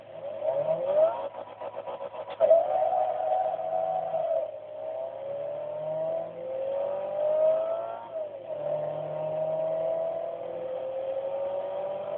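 Honda CRX with an aftermarket back box and stage 1 air filter, raced in Forza 2, revs hard through a 0-60 run: a raspy engine climbing in pitch, dropping briefly at each gear change and pulling again, loud and continuous with no talk.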